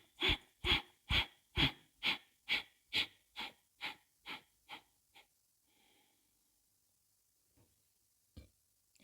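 Forceful rhythmic bellows-style exhaling during a breathing exercise, about a dozen sharp puffs in quick succession that gradually weaken, followed by near silence and a few soft breaths.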